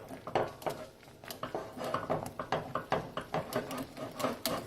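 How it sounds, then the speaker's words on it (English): A whisk scrapes steadily around a pot, stirring butter into grits in quick, even strokes that are close and fairly loud, with no talk over it. "You stir them up. Stir up that butter."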